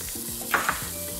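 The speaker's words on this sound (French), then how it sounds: "j'ajoute déjà mes oignons." Onions hit hot coconut fat with a steady, bright sizzle, and a couple of sharper spits pop out partway through this short, close burst.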